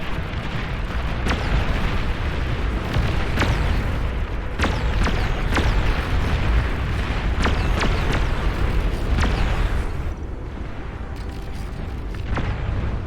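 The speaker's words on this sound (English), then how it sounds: "They hit another big explosion." Dense, continuous battlefield rumble from the real-time strategy game Beyond All Reason, with tachyon weapons in play, punctuated by repeated sharp explosion cracks and booms at irregular intervals, loud and without speech.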